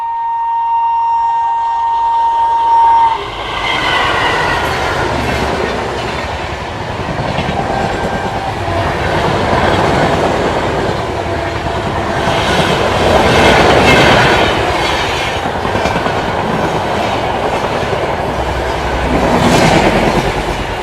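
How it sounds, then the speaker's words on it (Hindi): The Sadbhavna Express overtakes on an adjacent track in India, heard from aboard another train: a loud, sustained roar of passing coaches with rhythmic clickety-clack of wheels over rail joints and a brief horn at the start. "सद्भावना एक्सप्रेस हम लोगों को ओवरटेक करने वाली है"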